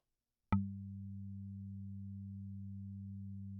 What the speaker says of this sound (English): Let's look at a long marimba.